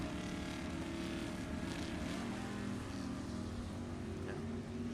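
A Chevy Camaro at Sacramento Raceway during a Summit ET Series drag race, its engine a steady, fairly distant rumbling drone under a continuous broadband roar with no clear rise or pause.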